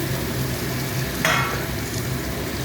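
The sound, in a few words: fried prawns and eggplant added to a sizzling pan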